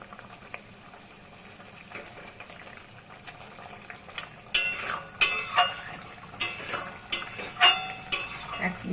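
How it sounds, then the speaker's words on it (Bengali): Bengali puti fish jhal curry boiling hard on a high gas flame: a quiet bubbling start, then loud, irregular bursts of popping and spluttering bubbles close by, no voices. "এখন আমি এক মিনিট ফুটাবো জাস্ট মাছ দিয়ে"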